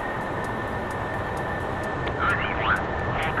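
An F-14 Tomcat taxis in a flight simulator with a steady, thin whine from its jet engines held at an even pitch, broken near the end by a few brief chirping tones.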